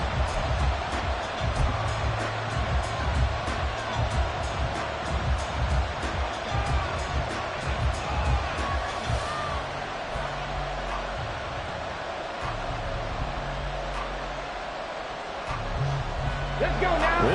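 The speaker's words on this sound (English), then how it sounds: "This crowd turning up the decibel level" Steady stadium crowd roar at a football game on third and long, a dense continuous wash of noise that stays loud throughout.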